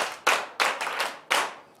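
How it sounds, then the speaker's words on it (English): A classroom of schoolchildren in Ghana claps for themselves during a flashcard pronunciation lesson, a few loose, uneven bursts of group clapping up close with short gaps between them. "Clap for yourselves."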